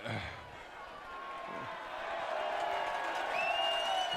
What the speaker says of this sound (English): We got the Hoban guys clapping